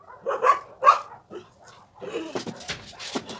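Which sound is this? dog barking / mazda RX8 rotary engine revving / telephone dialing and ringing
dog barking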